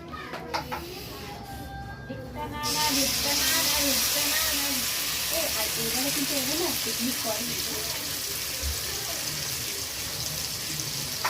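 Chicken pakoras frying in oil in a frying pan, a steady close sizzle and hiss that starts abruptly and runs on continuously, with people talking over it.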